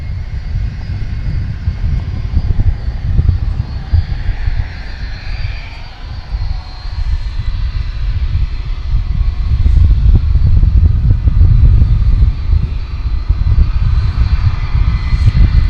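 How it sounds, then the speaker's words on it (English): American Airlines airliner engines at DFW Airport as the plane pulls out of its hangar, a loud, steady low rumble that builds and holds throughout, with no talk over it. "American Airlines plane pulling out of its hangar."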